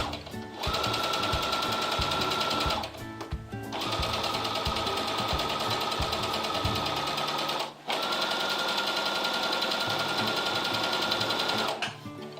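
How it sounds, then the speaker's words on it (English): Sewing machine stitching an embroidered cosmetic pouch, a fast, even mechanical whir in three long bursts with brief pauses between them, close and clear. "this piece, I'm just gonna sew it down really fast"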